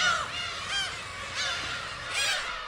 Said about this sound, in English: This is by far the most seagulls that I've ever seen in my life.